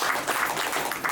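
Audience applause at a corporate leaders' meeting for a company director, a dense, steady wash of many hands clapping that carries on without a break through the short stretch.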